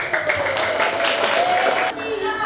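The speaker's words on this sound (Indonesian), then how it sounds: "Tepuk tangan." Classroom applause from a group of students, a steady dense clapping wash lasting about two seconds before dropping off, with some voices mixed in.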